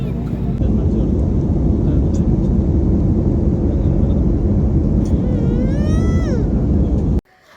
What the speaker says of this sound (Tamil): ஃப்ளைட் எடுத்தாச்சு.